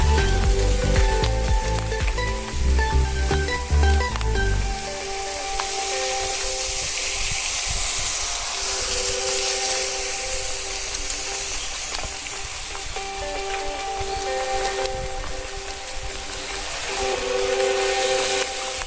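Steady rain falls on a commute home from work, a continuous broad hiss after a rumbling, tonal vehicle-like start, with the wash of drops holding evenly to the end.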